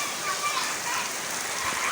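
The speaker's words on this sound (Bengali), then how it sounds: "প্রচণ্ড বৃষ্টি।" Heavy rain falls outside a home, a soft, steady hiss of drops heard at moderate distance, with faint background activity and no clear speech over it.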